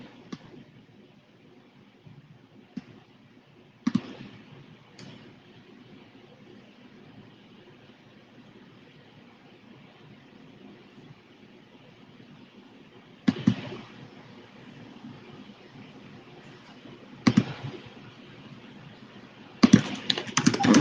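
An electronic cutting machine slices faux leather, giving a steady low whir with scattered clicks and a few sharper knocks as the blade carriage moves. No one speaks.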